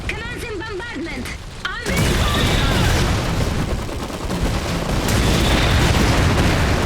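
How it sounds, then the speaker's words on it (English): Bombardment explosions in the Iron Harvest strategy game roll in as a dense, continuous rumble of booms and gunfire after a short stretch of game voice lines, loud and sustained. "Bombs away. Commencing bombardment."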